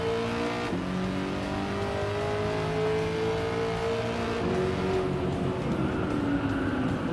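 A Corvette engine in the racing game Gran Turismo 7 revs and holds a loud, continuous drone, rising and shifting pitch through gear changes, with a brief dip early on and faint tire noise beneath.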